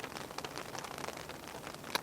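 Steady rain falls outside on a Montana bike tour, a soft continuous patter of drops on surfaces at moderate distance, with no voices.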